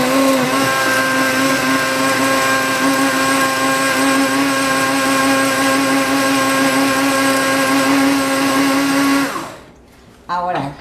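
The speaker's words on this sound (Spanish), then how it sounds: "Ahora vamos a moler esto" A blender runs loud and steady, grinding ingredients for butter lobster with a constant high motor whine, then cuts off abruptly near the end and gives a brief final burst.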